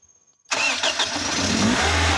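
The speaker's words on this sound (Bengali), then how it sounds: "আমি ইঞ্জিনটি স্টার্ট দিয়ে দেখানোর চেষ্টা করছি" A Toyota Hiace van's engine cranks and catches abruptly after a brief quiet moment, then settles into a loud, steady idle close by.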